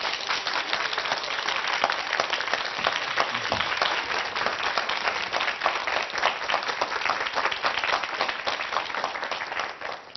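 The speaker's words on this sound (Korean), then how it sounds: "한수위 소장님을 큰 박수로 모시겠습니다." A lecture audience gives a big welcoming round of applause for the lecturer, Han Su-wi, at a televised talk. Dense, continuous clapping fills the whole stretch at a steady, full level and tapers slightly at the very end.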